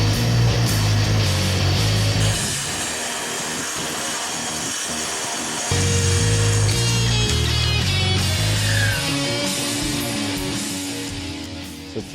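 A Dewalt DWS520 track plunge saw cuts through plywood with a loud, steady whine that shifts pitch as the blade moves through the sheet and winds down at the end, with no voices.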